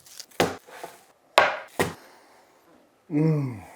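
A knife cuts homemade smoked bacon into cubes on a board in a few sharp, separate chopping thuds with quiet gaps between them, then a brief louder tonal sound at the end.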